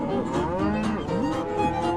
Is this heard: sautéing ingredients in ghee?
no